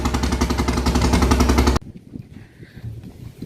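A motorboat engine on the Ganges at a Budge Budge river crossing to Bauria throbs loudly and steadily up close, then cuts off abruptly halfway, leaving quiet background rumble.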